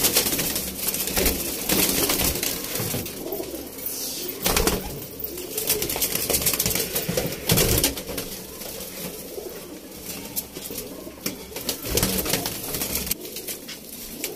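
A flock of pigeons keeps up a continuous, close cooing in their loft, many overlapping throaty calls with a few brief flutters of wings and shuffling.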